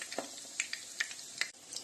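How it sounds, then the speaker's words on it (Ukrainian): Crackling sizzle of chicken breast frying on low heat in a pan, with sharp pops and spits scattered over a steady hiss, fairly close. "смажимо на слабкому вогні"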